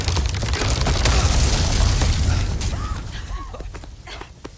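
A bomb explosion in a video game: a loud, deep rumbling boom that swells, holds, then fades into scattered creaks, clatter and small pops.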